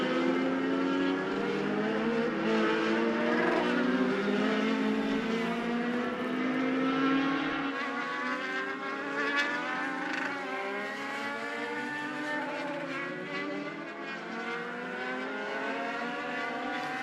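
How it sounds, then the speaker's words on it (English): Race car engines at Charlotte Motor Speedway during Summer Shootout qualifying, revving and sweeping through turns 1 and 2 in a steady loud roar with rising and falling pitch as the cars pass, continuous and close. "As Gerald takes that car down into turns 1 and 2."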